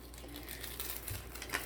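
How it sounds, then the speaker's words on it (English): A small plastic bag from a dollar-store Valentine's goody bag kit crinkles softly as it is taken out and opened, a faint, steady rustle close by with no talk. "So just take out the little plastic bag, open it up, and there's enough room in here."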